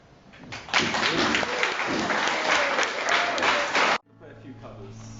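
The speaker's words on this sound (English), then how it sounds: "I'd like a very big round of applause" An audience at a live music performance bursts into loud, sustained applause for several seconds, then it cuts off abruptly, leaving a low hum.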